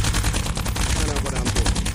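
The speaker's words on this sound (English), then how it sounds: "So as long as something is in front of me, I'll be able to shoot with that gun." Rapid gunfire from a gun in the VR shooter Gunheart, a dense, continuous stream of fast, loud shots with no pauses over the short span, close and steady.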